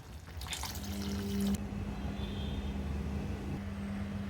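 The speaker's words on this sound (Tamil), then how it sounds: "கலந்து விட்டுட்டு தேவையான அளவு தண்ணி சேர்த்துக்கலாங்க." Water is poured briefly into a pot of sambar for about a second, a short splashing rush, followed by a quiet low hum.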